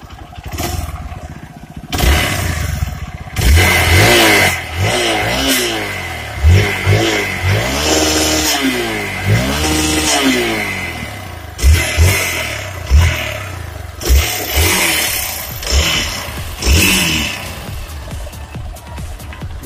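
A Hero Xpulse 200 motorcycle engine is revved repeatedly up close, sharp rising and falling throttle blips in irregular bursts over a rough idle, with some clatter between revs.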